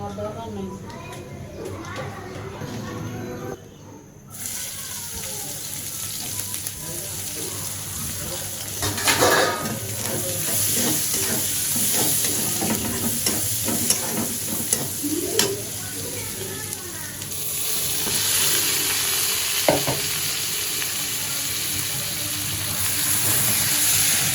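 Chicken pieces fry and are stirred in a pan for a chicken and taro dish, a loud hissing sizzle with scraping stirs that steps up partway through, while a person talks over it at times.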